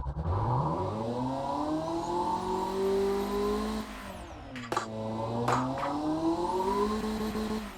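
V8 supercar engine in the video game Automation/BeamNG Drive revving: a smooth, loud whine climbs and falls, dips briefly, then climbs again, with no one talking.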